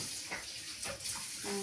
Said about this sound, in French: Et puis on va le passer sous l'eau.